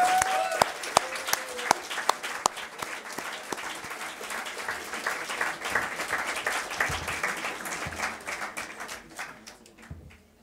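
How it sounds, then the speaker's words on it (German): Audience applause at a Political Ash Wednesday event in Passau, a dense wash of clapping that swells and continues steadily for about ten seconds before slowly thinning out, with no talk over it. "Deswegen einen kleinen Applaus für Gregor Giese"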